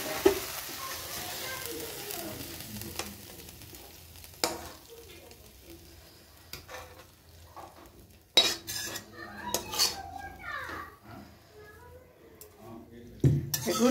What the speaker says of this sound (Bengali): দেখুন কড়াইটা কাচিয়ে কাচিয়ে আমি দিয়ে দিলাম